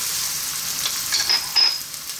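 Chopped red onion and garlic sizzling in a little olive oil in a pan, a steady close hiss with a few brighter crackling bursts toward the end.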